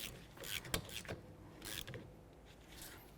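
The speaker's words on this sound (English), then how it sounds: "Now we're going to break free our banjo bolt here, and then we're just going to tighten it back up a tiny bit." A wrench loosens and then slightly retightens the banjo bolt on the rear brake caliper of a 2004-12 Chevy Malibu, heard as a few quiet, close metallic clicks and ratcheting scrapes.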